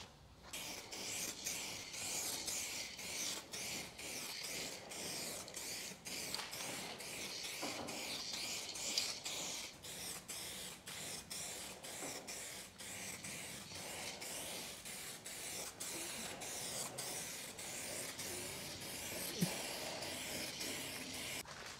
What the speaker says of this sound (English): Let's go ahead and spray some clear.